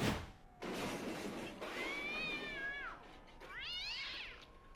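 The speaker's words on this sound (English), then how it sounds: "there was like a very stereotypical cat noise, cat screech" A stereotypical cartoon-style cat screech effect: a sharp burst followed by two drawn-out, wavering meows that rise and fall in pitch, loud and close with no talking.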